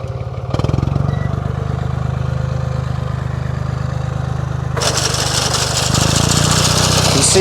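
A farm tractor in rural Portugal powers cutting blades along a wall, a steady loud engine drone with a harsh, rising grinding rattle joining about halfway through.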